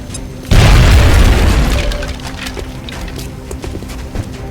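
A grenade explodes and blows up a wall in XCOM: Enemy Within, a sudden heavy boom that rumbles loudly and then slowly fades into a debris-filled tail.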